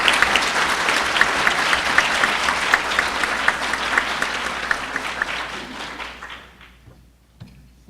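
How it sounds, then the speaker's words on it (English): Banquet audience applauding the Peanut Festival Queen and her court at the Suffolk Queen's Banquet, steady dense clapping that fades out over the last two seconds. "Let's give another round of applause for our Queen and her court."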